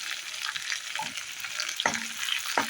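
Potato curry being stirred with ghee in a pan, a spoon scraping and clacking through the frying food over a steady soft sizzle, with a few sharper scrapes near the end.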